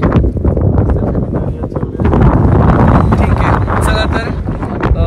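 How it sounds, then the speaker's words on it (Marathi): Strong cold wind at Pratapgad fort in Maharashtra buffets the microphone in loud, continuous roaring gusts, with brief voices faintly mixed in. "खूप गार वारा बसलाय"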